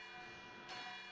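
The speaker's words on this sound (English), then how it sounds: "You guys still hear that bell going off?" A bell rings steadily at a low level in a quiet room, its sustained tone continuing without any voices.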